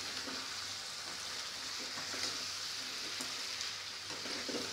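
A spatula stirs potato fry in a pan, tossing the slices from bottom to top in hot tempering, with a steady soft sizzle and faint scraping strokes, fairly quiet, no voices.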